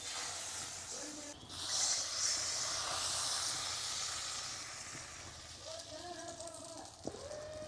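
Thin pitha batter hits hot oil in a wok and sizzles with a loud, steady frying hiss that slowly softens, with faint clinks of utensils near the end.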